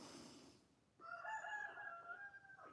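A rooster crows outside late at night, a drawn-out cock-a-doodle-doo rising after a second of quiet and holding steady to the end, at moderate distance with no talk over it.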